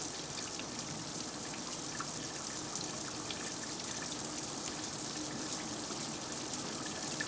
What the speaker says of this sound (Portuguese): Depois de terem sido encharcados por um jato de água pulverizada durante 1 hora